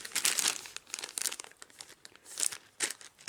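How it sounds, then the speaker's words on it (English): A plastic bag of board game pieces crinkles and rustles up close in several quick, irregular bursts, fairly quiet with brief pauses between handlings. "Sorry if that's crinkling too much on the camera there."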